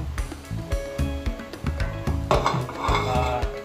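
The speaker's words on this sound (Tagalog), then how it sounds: "Halu-haluin lang natin yan." A pan of coconut milk (gata) is stirred with repeated clinks and scrapes of a utensil against the metal, in an uneven rhythm of close, fairly loud knocks and a soft bubbling wash underneath.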